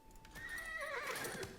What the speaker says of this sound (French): Petit bruit de cheval là.